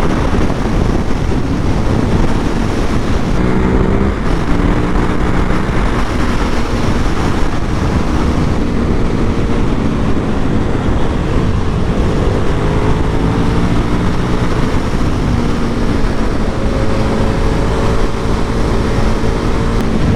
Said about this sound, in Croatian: Ovaj motor na svakom nivou, odnosno stepenu ubrzanja, nižem, srednjem, višem, ubrzava konstantno sve do kraja